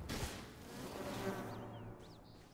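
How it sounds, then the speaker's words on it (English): Bees buzzing in the survival crafting video game Enshrouded, a steady droning hum that stays at an even, moderate level for a couple of seconds with no talk over it. "Oh, bees."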